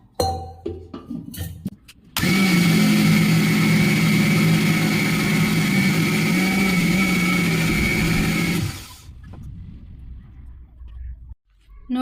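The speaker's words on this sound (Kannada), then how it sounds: "ಇದಕ್ಕೆ ಸ್ವಲ್ಪ ನೀರು ಹಾಕ್ಕೊಂಡು ಮಿಕ್ಸಿ ಮಾಡ್ಕೊಳ್ಳೋಣ." A kitchen mixie blends cooked spinach with water for a palak dosa batter, a loud continuous motor whir lasting about six seconds between quieter handling noises before and after.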